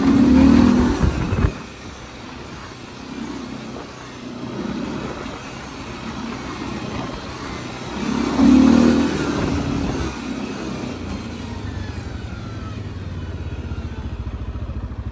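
A Linhai 550 Chinese ATV engine pulls in low gear, a steady mid-pitched drone that swells twice in short revving bursts, close and continuous throughout.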